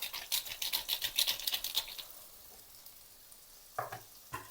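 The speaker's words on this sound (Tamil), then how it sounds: "இதெல்லாம் சேர்த்து ஒரு ரெண்டு நிமிஷம் இப்படியே வதக்கி கொள்வோம்" Capsicum curry with dried fish sautéing in a pan, a bright crackling sizzle with stirring strokes for the first two seconds, then quieter, with a couple of brief clatters near the end.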